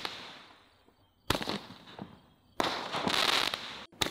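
A firework cake fires shots of delayed crackling, each launch a sharp bang followed by a dense, sizzling crackle that swells and fades, bursts coming in quick succession at moderate distance with no talking.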